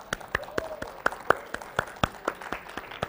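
Sparse, polite golf clap from a small audience in a training room, a dozen or so separate claps spaced irregularly and fairly close, with no talking over them.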